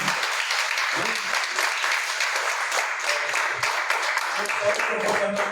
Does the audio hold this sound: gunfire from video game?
no